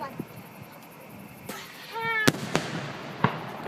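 Fireworks at a Little Canada Days display burst at middle distance, several sharp booms with crackling and a whistling rise, over a faint background of people chatting.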